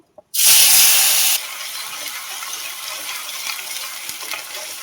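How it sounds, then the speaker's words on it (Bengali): Onion paste hits hot oil for a Bengali mustard-paste fish curry (chara pona jhal), bursting into a loud, close sizzle for about a second before settling into a steady, quieter frying hiss. "পেঁয়াজটা এখন তেলে দিয়ে দেবো।"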